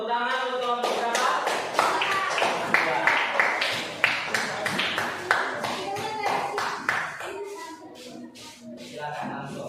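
A small classroom audience claps for a student group about to present on mobile phones, a quick run of sharp, separate hand claps that fades into shuffling and murmured talk.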